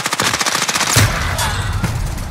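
Rapid bursts of CX9 submachine gun fire in Warzone Rebirth, a fast rattling volley that cuts off abruptly, followed by a steady gameplay noise bed with a few fainter shots.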